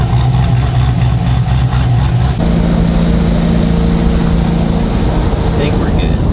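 Chevrolet SS sedan engine running loud and close on a test drive, a steady droning rumble with a rhythmic pulsing at first, then shifting to a smoother, higher tone as it pulls.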